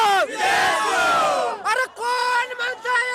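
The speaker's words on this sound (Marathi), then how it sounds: "मित्रांनो असा जल्लोष सकाळपासून इथं चालूच आहे" A crowd at an election victory rally in Patan roars and cheers loudly in sustained bursts, voices rising together in a festive, chant-like clamor with brief pauses between waves.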